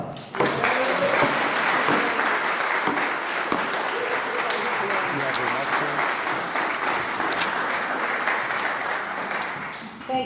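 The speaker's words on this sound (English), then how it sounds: "Please help me and give a round of applause to Linda McFarland" An audience at an evening community loan fund event breaks into sustained applause, a dense close wash of clapping that holds for about ten seconds before tapering off.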